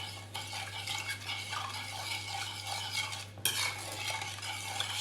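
A spoon stirs semolina and orange juice in a pot, with repeated scraping and swishing strokes against the metal over a steady low hum, one sharper clink partway through.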